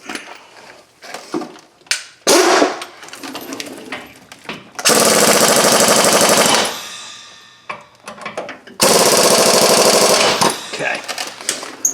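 Impact wrench tightening bolts on the front brakes of a 2005 Chevrolet Suburban, two loud sustained rattling bursts of roughly two seconds each, close by, with shorter clanks and tool handling between them.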